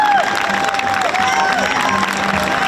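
A pageant audience at the Miss Novi regional final of Miss Italia Piemonte Valle d'Aosta applauds and cheers for the contestants, dense loud clapping with crowd shouts and a few whistles throughout.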